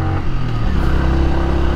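Several motorcycles from biker groups ride along a hilly road from Bandarban toward Thanchi, a steady loud engine drone with low rumbling tones holding throughout, close by and continuous with no talk.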